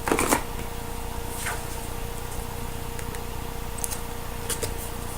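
Oracle cards shuffled by hand during a reading, a soft steady riffling rustle with a few brighter flicks and slaps, close and fairly quiet, with no talking.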